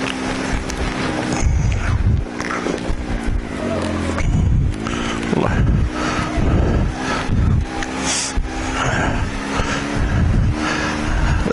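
A Can-Am Maverick X3 side-by-side rides along icy Tennessee trails, its engine a loud, continuous drone that swells and eases with the throttle, mixed with rattles and scraping from the ride.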